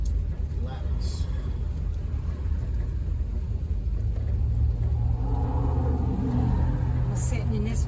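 A 1985 Dodge B-150 conversion van rolls along slowly, its engine giving off a steady low rumble and road noise from inside the cab, with someone talking over it.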